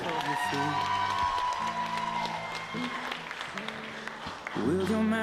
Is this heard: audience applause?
yes